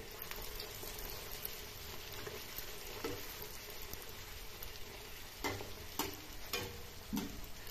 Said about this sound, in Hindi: जिस तरह से मैं फ्राई कर रही हूं उसी ढंग से आप अपने भटूरों को फ्राई कर लें